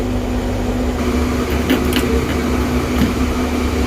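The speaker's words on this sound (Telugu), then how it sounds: "ఇవి రెండు కూడా వేసి ఒకసారి మిక్సీ అనేది పట్టుకుందాం." A kitchen mixer grinder runs steadily and loudly, blending vegetables into dosa batter in one continuous whir with no talking.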